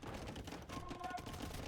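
Dense volleys of hand cannon gunfire in an Age of Empires-style real-time strategy battle, a continuous crackle of overlapping shots at moderate distance with battle noise underneath.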